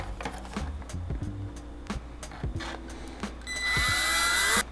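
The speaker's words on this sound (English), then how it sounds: "I'm going to drill those 4 holes out for the Calyx Vista." A small drill bores screw holes into the roof of an RC truck body. Scattered handling clicks and taps come first, then a steady, high-pitched whine rises near the end, loud and close.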